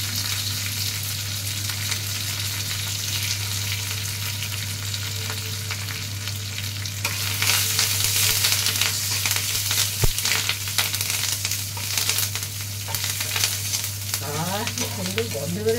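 Dry red chillies, cumin, fenugreek, mustard seeds, curry leaves and a pinch of asafoetida sizzle steadily in hot oil for sambar, a continuous close frying hiss with spoon stirring and scraping, growing louder midway as more spices hit the pan.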